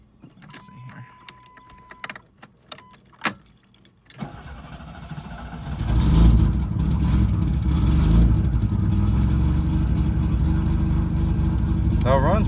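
Keys jangle and click for a few seconds before a low-mileage Chevrolet Camaro engine starts and runs loudly and close by with a slight miss, its rumble steady for the rest of the clip.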